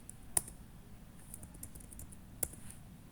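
A computer keyboard being typed on softly while working in MATLAB, with light scattered key taps and two sharper, distinct clicks like Enter presses, quiet and close.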